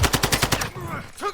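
Gunfire hitting the player in the video game DMZ, a rapid burst of about six automatic shots in quick rhythm, loud and close, then cut off abruptly.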